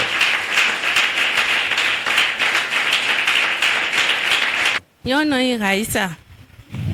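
Enthusiastic clapping from a church congregation at an Easter Sunday service fills several seconds, then gives way to a singing voice and scattered noise.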